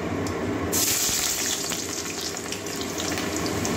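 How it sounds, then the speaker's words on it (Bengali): Chopped onion drops into hot mustard oil with black cumin for a spicy kachki fish curry, setting off a loud, steady sizzle that swells sharply after the first moment and holds alone throughout. "পেঁয়াজ কুচি দিয়ে দিচ্ছি।"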